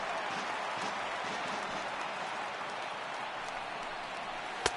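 A baseball stadium crowd at a 2018 postseason game between the Washington Nationals and Philadelphia Phillies roars in a steady, dense wash of cheering and applause, sustained throughout with a sharp clap near the end.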